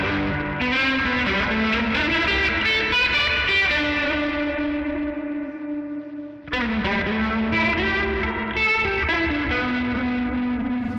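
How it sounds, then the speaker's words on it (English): A Hologram Electronics Chroma Console pedal processes guitar through filter, phaser and drive placed before reverb, giving sustained, distorted, swirling chords with a brief drop midway before playing resumes, loud and alone. "We'll still have filter go first. We'll have still phaser going, but now we're gonna put the drive before the reverb,"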